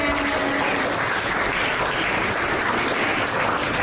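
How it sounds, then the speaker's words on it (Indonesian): A school audience claps for an alumna guest at a junior high orientation event, a loud, continuous burst of many hands close by, steady from start to finish. "Beri tepuk tangan untuk Kak Noel"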